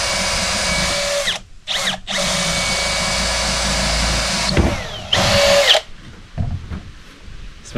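A power drill drives screws into hard ironwood, a loud close whine that runs in long sustained bursts broken by short pauses and bit-snapping stops, straining as the screw bites into the dense timber.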